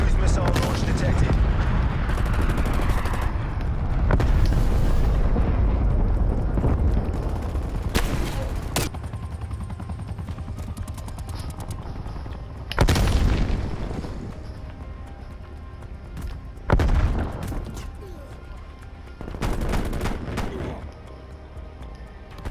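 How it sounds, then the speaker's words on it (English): Cruise missile strike in the Call of Duty: Black Ops Cold War video game, with a rumbling barrage of heavy explosions and gunfire bursts, several loud booming impacts spaced across the stretch over constant low battle noise. "Enemy cruise missile launch detected."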